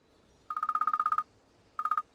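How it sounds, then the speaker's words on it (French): A telephone rings in a quiet room with a rapid electronic trill, a longer burst followed after a short pause by a second, briefer burst, close and fairly loud with no talk over it. "Réponds au téléphone."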